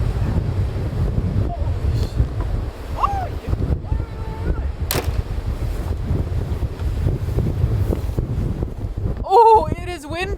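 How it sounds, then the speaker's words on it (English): Steady low wind rumble buffets the microphone throughout on a polar night in Svalbard, with a voice speaking over it and a brief high warbling sound near the end. "Oh, it is windy, but there are northern lights"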